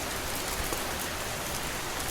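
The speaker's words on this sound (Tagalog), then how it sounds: "Grabe naman yung ulan." Heavy rain pours down in a dense, steady hiss with no pauses, loud and enveloping throughout.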